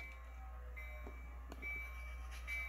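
Model train on a small switching layout rolling back to couple a caboose: a low steady rumble with faint high whine and a few soft clicks, quiet and continuous.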